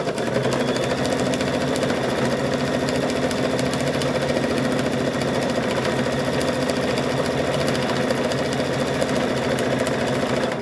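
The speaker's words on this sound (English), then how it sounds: "Because you end up sewing over everything that you've already put there." Sewing machine running continuously while stitching an abstract quilt, a fast steady mechanical whir and needle chatter at moderate loudness, unbroken for the whole stretch with no talking.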